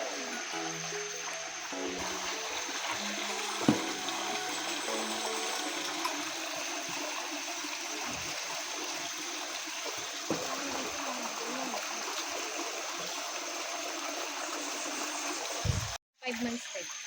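Mountain spring water at a natural spring on Mount Masaraga flows in a steady, continuous rush with soft splashing, faint and constant throughout, while a few low voices murmur under it before a brief cutout near the end.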